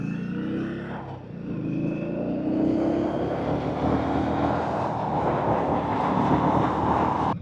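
An Indian Scout Sixty motorcycle rides at high speed at night, its engine roar rising in pitch as it accelerates, heavy wind rush layered over a steady loud drone.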